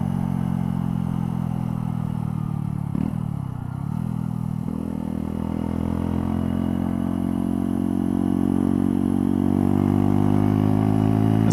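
A 2018 Mutt Fat Sabbath 125cc motorcycle riding along small country roads: a loud, close, continuous engine drone that dips briefly as if shifting, then climbs steadily in pitch as it pulls away.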